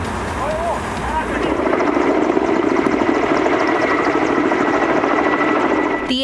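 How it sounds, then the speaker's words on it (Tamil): Loud, steady helicopter rotor and engine roar droning continuously as the helicopter sprays water and chemicals over a wildfire, with a voice speaking faintly underneath. "ஹெலிகாப்டர் மூலம் தண்ணீர் மற்றும் ரசாயனம் தெளிக்கப்பட்டு வருகிறது."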